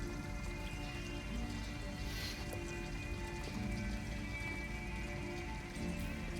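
Steady rain falls at a bus stop in the game Detroit: Become Human, a dense, continuous hiss of droplets pattering on nearby surfaces, moderately loud and unbroken throughout, with no voices.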